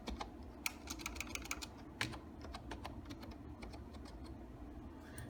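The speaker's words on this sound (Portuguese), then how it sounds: "E vou digitar todas as informações" Rapid keystrokes on a computer keyboard entering contact information into a web form, a steady run of close, crisp clicks with short bursts and pauses, heard alone without voices.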